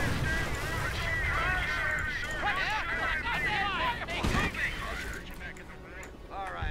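Gunfire from an M8 armoured car in Company of Heroes, heard as repeated sharp bursts and thuds amid the battle din, with a voice speaking over the shooting.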